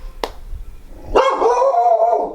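A dog gives a sharp single bark, then after a short pause a longer, louder yelping or whining bark run that holds for over a second, fairly close with no talk.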